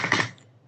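A brief burst of a few quick keystrokes on a computer keyboard, close and soft, ending within a fraction of a second.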